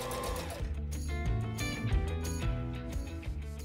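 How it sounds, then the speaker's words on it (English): A sewing machine chain-stitching joins of bias strips, running in a steady rapid mechanical rhythm, close and clear with no talking. "I stitched the joins together in a chain to save on thread"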